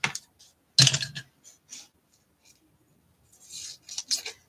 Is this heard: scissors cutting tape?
yes